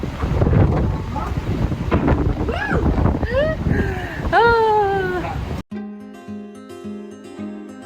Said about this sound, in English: The ferry ride is almost over